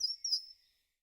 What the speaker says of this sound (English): In the heart of the forest, a blue bird sang.